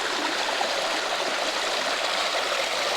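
A creek flows steadily close by, a broad continuous rush and gurgle of water with no voices, after a night of heavy storm.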